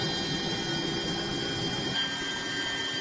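An Eliica electric car's motor spinning up past 12,000 RPM produces a steady, dense high-pitched whine with a continuous mechanical roar, loud and unbroken throughout.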